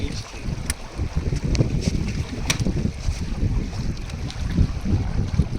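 A sailboat moves across open water at the Royal Mysore Sailing Club on the KRS backwaters, with steady wind buffeting the microphone and water washing against the hull, close and fairly loud throughout.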